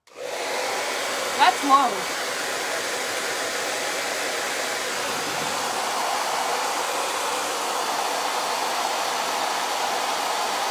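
A loud nail dryer tool blasts a steady, continuous broadband whoosh while drying layers of nail polish, running unbroken for the whole stretch, with a brief short remark spoken over it near the start.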